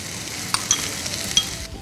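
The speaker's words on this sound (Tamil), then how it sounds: "அடுப்பை பெருசாக வச்சுருக்கோம், அதனால் ஒரே ஒரு கிளறிடுவோம்" Vegetables such as beans and potato sizzle in a hot pan over high heat while being stirred for vegetable korma, a steady close frying hiss with a few brief scraping clinks from the stirring.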